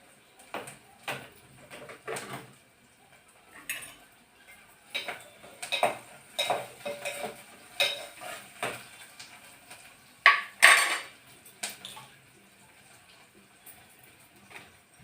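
Gongura (sorrel) leaves are cut during cooking, heard as scattered, irregular knife taps and light clinks of utensils against a quiet kitchen background, with a few sharper knocks along the way.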